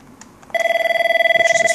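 An Avaya IP Office desk phone rings after an internal extension is dialed, giving a loud, steady electronic trill that starts abruptly and continues, with faint room noise before it.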